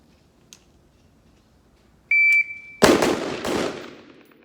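A shot timer beeps once, then a Palmetto State pistol with a 10.5-inch nitride barrel fires two sharp, loud shots in quick succession at a range, each followed by a brief ringing decay.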